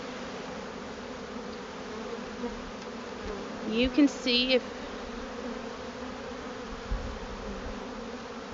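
Honey bees drone steadily around an opened hive during an inspection, a dense close hum with a brief louder buzz as one passes near, while a person speaks briefly.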